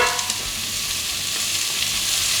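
Mirepoix of equal parts celery, onion and carrot hitting a hot pan for a Guinness beef stew, a loud dense sizzle with light stirring clicks, close and steady throughout with no speech.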